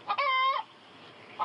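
A chicken clucks close by in a short burst of loud, squawking calls with a drawn-out cackle, then goes quiet before another cluck starts at the end, alone without talk.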